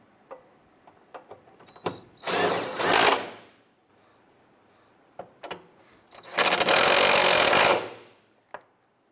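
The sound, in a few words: power tool snugging down fuel tank strap bolts on Nissan Versa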